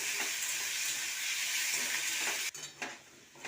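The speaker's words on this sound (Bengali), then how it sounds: "আলুটাকে লাল লাল করে ভেজে নেব" Oil sizzles loudly and steadily as turmeric-coated potatoes fry in a kadai, with a brief stir and pan clatter near the end.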